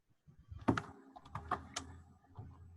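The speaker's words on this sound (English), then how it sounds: "I think we can hear you typing." Keys clack on a computer keyboard during a remote meeting, a sparse irregular run of soft taps and thumps picked up through a participant's microphone.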